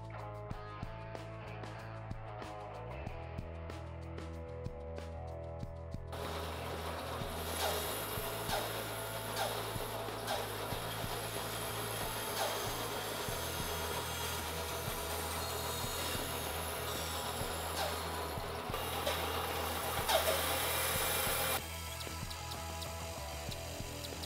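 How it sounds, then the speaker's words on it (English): Bandsaw cutting a wooden table rail along a template line: a steady motor hum underneath, with the blade's broadband rasp swelling in for most of the cut, fairly quiet and without talk. "I can cut this out at the bandsaw, staying close to the line"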